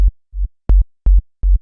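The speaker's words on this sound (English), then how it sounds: "It's just a sine wave" Short, deep sine-wave synthesizer bass notes from Serum pulse in a quick repeating pattern, each a smooth low tone with a soft click at the start, loud and dry.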